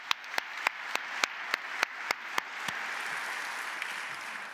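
Applause at a Stanford Athletics Hall of Fame ceremony, opening with about ten sharp, evenly spaced claps that give way to a steady, moderate wash of audience clapping.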